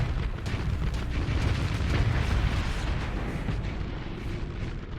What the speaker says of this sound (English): Oh, missile! Ow, that one hurt.